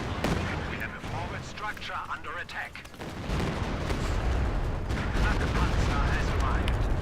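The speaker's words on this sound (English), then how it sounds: "Another super long range Katyusha barrage." Katyusha rocket barrage in the Company of Heroes 2 battle game, a dense, continuous rumble of launches and impacts with crackling bursts that swells and stays loud, with game battle noise throughout.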